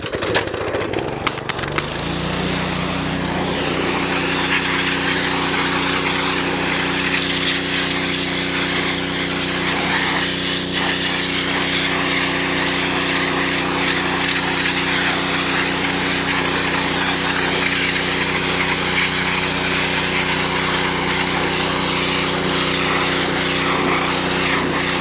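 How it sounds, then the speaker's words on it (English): A pressure washer running continuously on Kubota tractor wheels, a loud steady engine drone with hissing spray throughout, close and unbroken after a brief start-up clatter, no voices. "we got all 4 of them pressure washed"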